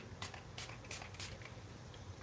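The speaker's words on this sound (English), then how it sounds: "Spray." A spray bottle mists water during acrylic painting, giving four quick, faint hissing spritzes in an even rhythm against a quiet room.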